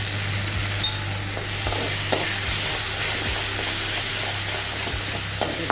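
Chilli powder frying in a pan, a loud continuous sizzle and hiss with repeated scraping strokes of a spoon stirring through it, close and steady.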